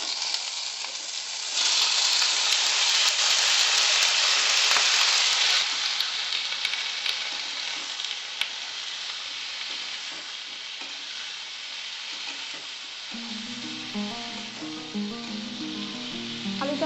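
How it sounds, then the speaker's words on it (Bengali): Potato pieces fry in hot oil with nigella seeds, bay leaf and a dried red chilli, giving a steady close sizzle that swells louder early on. Clattering stirring sounds come in near the end, with no talking. "আলুটা আমি খানিকটা লাল লাল করে ভেজে নেব।"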